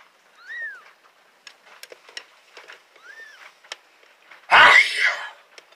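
A mother cat in labour gives a single sharp, loud sneeze near the end, after a couple of soft meows and small rustling sounds in a quiet room.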